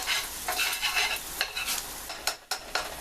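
Onions or similar ingredients sizzle in a hot pan while caramelizing ahead of canned pork for a rotini marinara, a steady crackling fry broken by a few sharp stirring scrapes and clicks.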